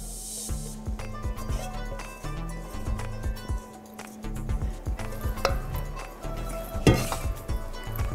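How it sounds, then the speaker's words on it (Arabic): A spoon stirs sauce through a salad in a bowl, giving steady, close scraping and soft clattering with occasional sharper clinks, repeating in an uneven rhythm. "هقلبها تقليبة"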